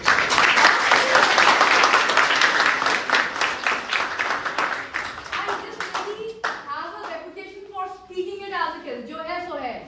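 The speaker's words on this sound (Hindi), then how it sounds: "कंजूसी से तालियां क्यों बजा रहे हो?" A workshop audience breaks into loud, dense applause that thins out over several seconds, then a person's voice takes over as the last scattered claps fade.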